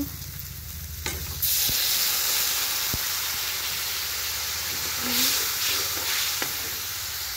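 Water poured into a hot frying pan of dried fish (shutki) curry bursts into a loud, steady sizzle partway through, a broad hissing that holds to the end with a few stirring clinks, no voices.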